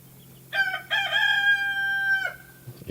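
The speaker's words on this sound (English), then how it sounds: "And now that the chickens have eaten, they're just going to come right up and finish up all that." A rooster gives one clear, loud cock-a-doodle-doo crow close by on a rural property where bantam chickens are fed, a single sustained call that ends abruptly, with faint low background noise.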